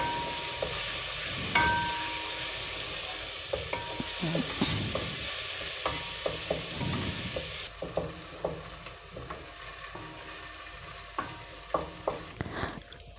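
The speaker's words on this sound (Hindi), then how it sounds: "1 टीस्पून लहसुन और अदरक चॉप हुआ हुआ। इसको हल्का सा हमने इस ऑयल में सौते कर लेना है।" Garlic and ginger sauté in a small amount of oil, a steady soft sizzle with scattered stirring clicks and scrapes of the spoon against the pan throughout, close and moderately quiet.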